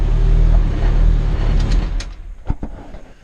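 A Honda B-series all-motor engine in an EF chassis, built 12.5-to-1 with a Type R cam, roars loudly on a dyno at first, then drops off into quieter, sputtering bursts and a few sharp pops near the end.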